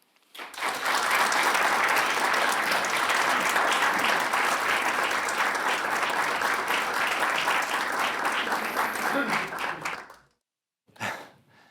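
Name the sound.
audience applause welcoming speaker Phil Klay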